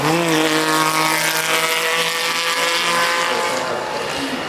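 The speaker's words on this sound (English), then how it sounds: "the Ferrari that's heading up the hill now" A Ferrari climbs the hill at the Goodwood Festival of Speed with a loud, sustained engine note that rises in pitch and then eases as the car moves past and away.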